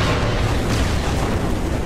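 An explosion in the video game Far Cry 3: a loud, dense roaring blast that fills the whole moment with sustained broadband rumble and no pauses.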